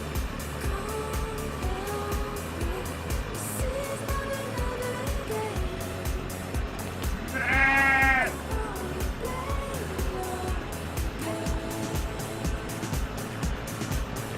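Sheep checked in a farm pen during lambing season: a single loud, close bleat stands out midway above a steady, rhythmic mechanical rumble, with faint calls elsewhere.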